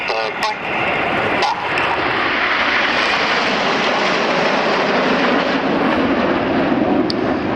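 Red Arrows Hawk T1 jets fly in formation at the Old Warden Flying Festival 2019, producing a loud, continuous, roaring engine wash that fills the whole stretch, with a voice faintly audible beneath it.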